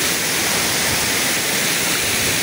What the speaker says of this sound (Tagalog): Dito po ito sa Balagbag Falls sa may Real, Quezon.